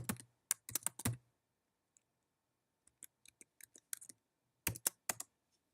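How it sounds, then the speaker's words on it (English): Keys clack on a computer keyboard while a username and password are entered at a website login, arriving as short bursts of crisp taps separated by pauses, close and fairly quiet with no talking. "You'll type in your username and password."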